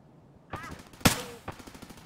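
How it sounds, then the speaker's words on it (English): Gunfire in the Escape From Tarkov video game, three sharp shots spaced about half a second apart, the middle one loudest, all fairly distant-sounding. "Someone was shooting back there."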